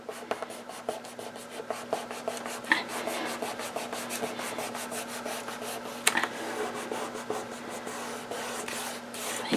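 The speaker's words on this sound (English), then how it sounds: "You're going to use your fingers and rub in between all of the little lines you've got." Fingertips rub steadily back and forth over paper pressed onto a junk journal page, a continuous close scratchy swishing with brisk repeated strokes and a low background hum.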